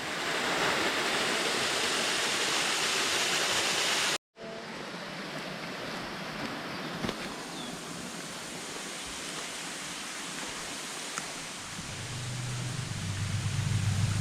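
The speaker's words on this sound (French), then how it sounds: "Et là nous retournons à la cascade." Waterfall near abandoned rocky cliffs gives a steady, loud, broadband rushing roar, briefly cut by a short gap before resuming and continuing unbroken, with a low rumble building near the end.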